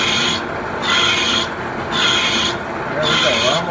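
A machining cut on a pump housing, a loud steady grinding rasp that swells and eases in regular pulses about every second, with a faint higher squeal near the end.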